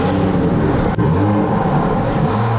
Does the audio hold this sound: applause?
no